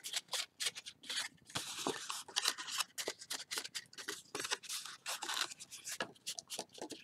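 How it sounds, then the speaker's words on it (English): Paper being folded along score marks into a mug shape, soft close crinkling and rubbing strokes in quick irregular bursts, faint and alone. "So just go right along and fold each of them up."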